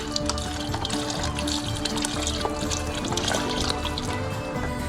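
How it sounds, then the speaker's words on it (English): Beef broth pours steadily into a pot of lamb and Guinness stew with a continuous, close liquid splashing and gurgling, moderately quiet, with no talk. "beef broth to cover."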